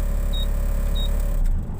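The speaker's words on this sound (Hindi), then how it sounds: "तो गाड़ी फिलहाल बंद कर रहे हैं अभी।" A Mahindra Blazo BS4 truck diesel engine hums steadily at close range, its low rumble continuing with two faint high beeps before the sound drops away at the end as it is switched off.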